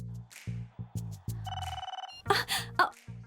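A telephone rings on an outgoing call in a Hindi-dubbed movie scene, a short electronic ringback tone playing amid dramatic musical stabs and sound effects, with brief vocal sounds and no clear speech.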